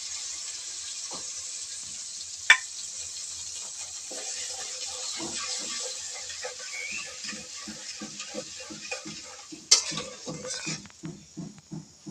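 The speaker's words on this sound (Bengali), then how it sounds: "একটু জল দিয়ে দিচ্ছি মশলাটা যেন না পুড়ে যায়" Water poured onto frying masala in a home kitchen pan sets off a steady hiss, with a sharp clank or two and a run of rhythmic spoon scrapes against the pan while it is stirred, close by.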